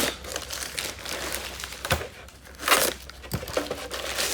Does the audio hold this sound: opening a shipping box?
yes